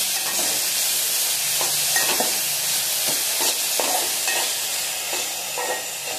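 Capsicum and salt are stirred and sautéed in a pan for a quick dry sabzi: a constant oily sizzle and hiss, with repeated scraping strokes from the spoon at an uneven rhythm.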